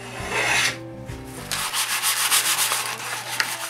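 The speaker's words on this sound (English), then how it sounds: "Then I sand it to remove the faces." A wooden jig support is sanded by hand to remove its faces, giving close rhythmic rasping strokes of abrasive on wood, a few seconds long, after a brief mechanical hum fades out.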